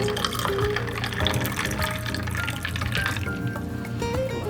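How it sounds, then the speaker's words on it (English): Blended beet juice poured into a glass, a continuous close trickling and gurgling stream with rising pitch as it fills. "So then you might want to pour and taste it."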